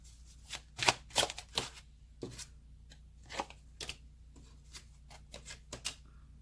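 A deck of cards being shuffled in a series of quick riffling bursts with short pauses between, close and fairly quiet.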